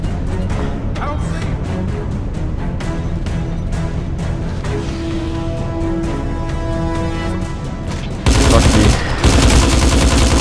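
An STG assault rifle firing in Hitman Absolution, repeated sharp shots over game music, ending in a loud sustained burst of automatic fire.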